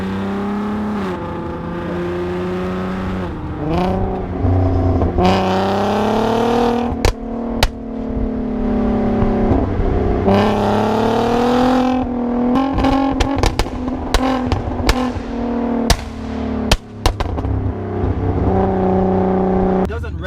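A VW Golf R32 MK5 Stage 2 revs hard and accelerates with a loud, throaty exhaust, rising pitch sweeps and sharp pops, close by and sustained throughout.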